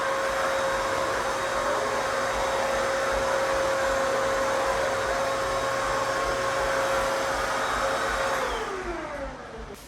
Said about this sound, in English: to give my clients a little bit of a quick air dry